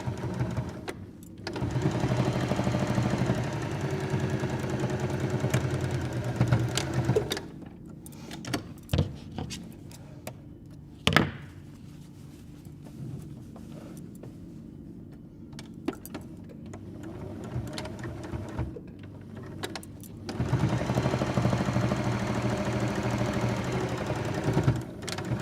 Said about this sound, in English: then just top stitch along the seam lines where you join the fabric in the first place